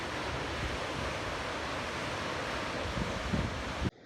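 Waves wash steadily against a lake shore under gusting wind on a windy day, a continuous roaring surf that cuts off abruptly at the end.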